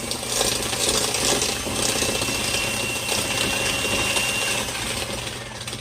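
An electric hand mixer beats cookie dough ingredients until fluffy for oatmeal, pecan and walnut cookies. It gives a loud, steady whir that runs continuously with no break and no talking.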